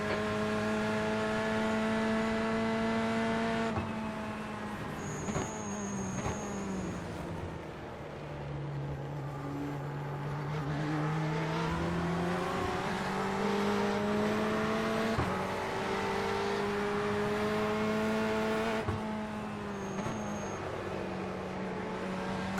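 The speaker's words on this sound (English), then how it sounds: "God, that BMW sounds good." A BMW GTE race car engine in iRacing at Le Mans drones steadily, its pitch rising and falling through gear changes and off-throttle overrun, loud and continuous throughout.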